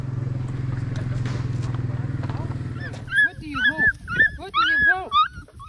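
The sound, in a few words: hounds whimpering and yipping after a fight with a predator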